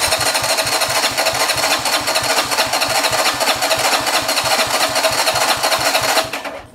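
An RPS Condor 150 motorcycle engine, started without choke in warm weather, cranks with a rapid, even pulsing chug that continues loud and close for several seconds, then dies away at the end.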